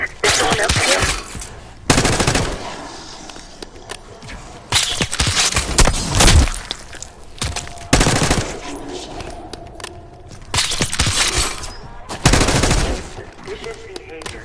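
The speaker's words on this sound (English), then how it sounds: "You hearing gunfire?" Bursts of rapid automatic gunfire and shots in Call of Duty: Black Ops 6, loud and repeated in several volleys separated by brief lulls, with game-like ambience between.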